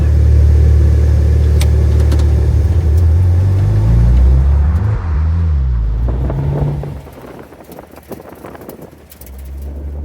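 Engine of a rebuilt Porsche 997 911 Turbo while driving, loud and close with a deep rumble and rising, falling revs, then dropping to a quieter idle-like hum near the end.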